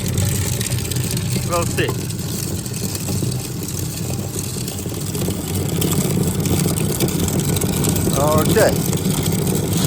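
Electric motor driving a pyrite crusher runs as a steady mid-pitched drone throughout, with brief talk over it near the start and end.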